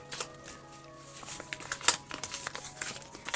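Plastic packaging crinkles and rustles in short, irregular bursts close by, with no talking.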